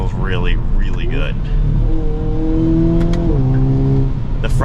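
A 2023 Hyundai Kona N driven in sport mode, its exhaust holding a steady drone with gear-change steps and rising pitch, running continuously beneath someone talking over it.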